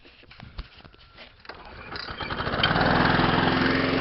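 A small Honda Isy lawn mower engine with a faulty carburetor and decompression valve sputters and catches, then rises into a steady, loud chugging run that continues to the end.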